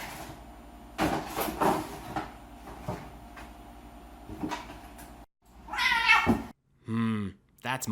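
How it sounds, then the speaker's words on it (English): A cat meows loudly and close by in a few drawn-out, wavering cries near the end, after a stretch of softer background noise and knocks. "here's a video of a funny cat"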